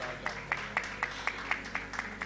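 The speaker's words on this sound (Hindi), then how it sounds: "जोरदार तालियां जिंदा खुदा के लिए आप बजा सकते हैं।" A church congregation at a Hindi-language worship service claps in a steady, even rhythm, roughly four claps a second, sounding moderately distant and soft against a quiet room.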